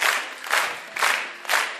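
Wedding guests in a restaurant clapping in unison, four loud rhythmic rounds of group applause spaced about half a second apart, close and dense.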